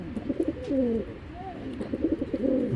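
A pair of giribaz pigeons cooing close by in soft, repeated throaty phrases, with a brief pause in the middle before the cooing resumes.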